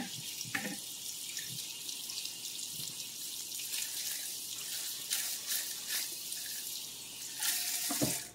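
Tap water runs steadily into a kitchen sink as mushrooms are rinsed, a continuous soft splashing hiss with a few brief clatters of handling, fairly quiet and with no one talking.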